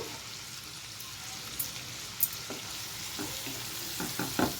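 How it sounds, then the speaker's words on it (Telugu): Mint and coriander fry in oil for spinach curry, giving a soft, steady sizzle with occasional light clicks and taps from stirring. "ఇది కాస్త ఫ్రై కానివ్వాలండి మంచిగా ఆయిల్లో"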